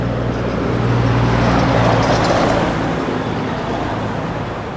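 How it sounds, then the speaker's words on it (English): A 1968 Plymouth GTX with an H-pipe dual exhaust and chrome tips rumbles steadily nearby, a loud, even idle-to-cruise drone that swells slightly and then eases over a few seconds. "It's got a really nice sounding H-pipe dual exhaust system"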